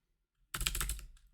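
Quick burst of typing on a computer keyboard: a short cluster of rapid, close key clicks that begins abruptly and trails off within about a second, with no talking.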